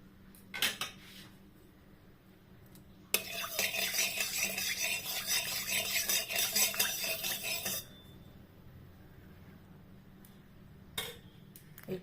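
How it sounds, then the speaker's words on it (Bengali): Pabda fish fry one by one in hot oil in a wok, giving a burst of crackling sizzle that lasts several seconds and then dies back to faint background clatter and a few soft clicks. "এবার একটু তেল দিয়ে দিলাম, দিয়ে আমি এবার মাছগুলোকে একটা একটা করে ভেজে তুলব।"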